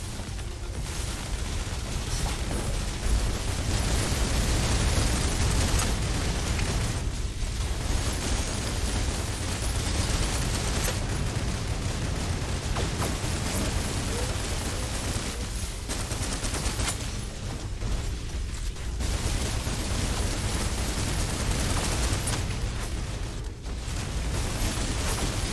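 Sustained gunfire and explosions from the Snowbreak: Containment Zone video game roar almost without pause, with dense overlapping shots and booming blasts. Brief lulls break the barrage now and then.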